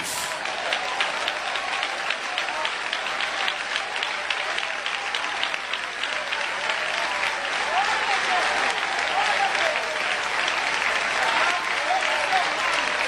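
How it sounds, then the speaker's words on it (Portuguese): A church congregation claps continuously and loudly, a dense sustained wall of applause with scattered shouts of praise mixed in, swelling slightly toward the end. "Eu quero ouvir palmas misturado com glória a Deus."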